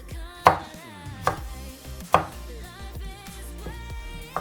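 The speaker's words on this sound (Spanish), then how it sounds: "y de ahí vamos a cortar las tiras" A knife cuts thin julienne strips on a cutting board, with a few distinct sharp taps spaced irregularly over a steady background of music.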